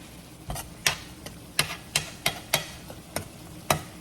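Thickening sausage gravy being stirred in a pan, a series of sharp spoon knocks and scrapes at an irregular pace over a faint low bubbling, no voices.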